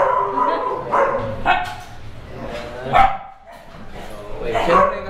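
A big dog at a large kennel farm in Bulacan barks several times in deep, loud bursts, spaced irregularly, while people talk nearby.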